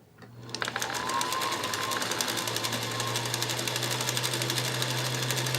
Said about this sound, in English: So what I'm going to do is rewind this bobbin onto that bobbin with the proper tension